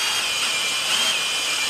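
A steady, high-pitched power drill whine with a 10 millimeter bit, working on a Jeep Gladiator, runs continuously and fairly loud, with a faint tonal rise midway and no voices.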